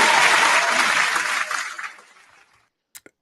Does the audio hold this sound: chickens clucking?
no